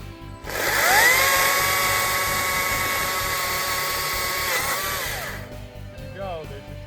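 A mini chainsaw whines at high revs while cutting firewood, a steady buzzing drone that starts abruptly, holds for about five seconds and cuts off, with voices audible around it.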